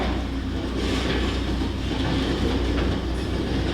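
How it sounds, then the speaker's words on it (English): A commuter train rolls along with a continuous low rumble and faint rattling, heard steadily from inside with no one speaking. "Mr. Williams is next seen riding on the commuter train to his home in Connecticut."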